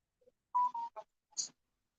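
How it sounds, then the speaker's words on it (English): A phone and a tablet give off a few short electronic beeps and chirps, quiet and close, separated by brief silent gaps. "My phones are beeping. My tablet is beeping like crazy."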